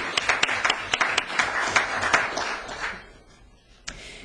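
An audience at a governor's State of the State address claps, with sharp individual hand claps forming a brief round of applause that fades out, followed by one last isolated clap.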